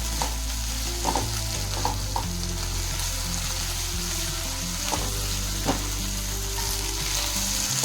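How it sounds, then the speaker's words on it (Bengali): Golden brown onions with ginger-garlic paste fry in a pan for dhaba-style butter paneer. A steady, close sizzle runs throughout, punctuated by scattered soft clicks and scrapes of stirring. "এবার দিয়ে দেবে 1 চামচ আদা রসুন বাটা।"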